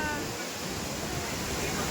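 Kempty Falls waterfall near Mussoorie: a steady, close, rushing roar of falling water, uniform and continuous, with voices faint beneath it.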